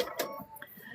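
Sewing machine running a quilt's stitching off the fabric edge, a brief close mechanical burst of needle clatter that eases into a softer hum, with a faint voice in the background.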